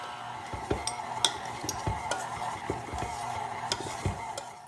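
Peanut butter cookie dough is stirred in a bowl, a series of irregular soft scrapes and knocks of utensil against the bowl, close and moderately quiet, with no talking.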